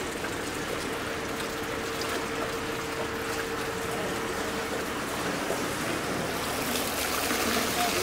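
Floodwater in Opladen, Leverkusen, splashing and rushing in a steady, dense wash that continues throughout, loud and close.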